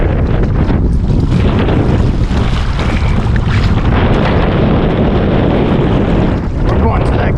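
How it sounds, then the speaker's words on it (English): Strong wind buffets the microphone on a paddling trip down the Spruce Creek River, a loud, constant roar with gusty swells that drowns out nearly everything else. "Real windy out here."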